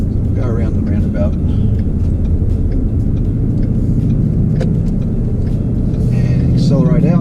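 A 2017 Ford Mustang GT with a manual gearbox pulls out of a roundabout, its engine making a loud, continuous low rumble as it gains speed, with a voice speaking over it at the start and end.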